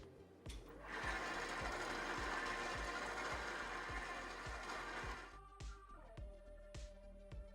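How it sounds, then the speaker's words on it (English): Electric stand mixer running on its lowest speed through cookie dough, a steady rhythmic motor whir with regular thumping beats, close but quiet, spinning down after about five seconds into faint clicks. "I've just got the mixer on the lowest speed possible for this next bit."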